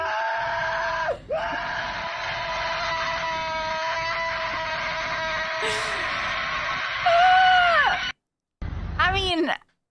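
A crowd of people at a free ice cream promotion screams loudly and continuously, with shrill rising and falling shrieks, cut off abruptly near the end before another short burst.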